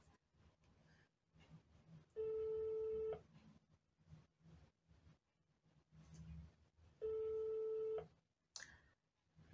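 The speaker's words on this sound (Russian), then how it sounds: "Телефон звонит." A telephone rings with two long electronic tone bursts a few seconds apart, each a steady buzzing tone, over a quiet room with faint background noise.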